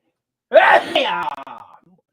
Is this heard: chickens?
no